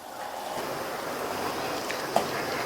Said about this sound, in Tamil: தண்ணி நல்லா கொதிக்குது.